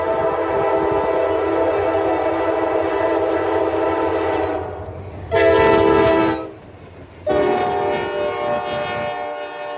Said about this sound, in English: my first catch of the day was NS Local P43 at 12:06 p.m. with NS 3045 leading